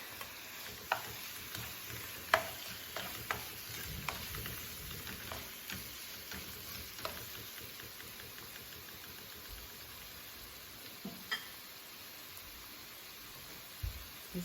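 Garlic and tomatoes frying in a pan, a steady soft sizzle running throughout with light scattered ticks and stirring scrapes, close and alone.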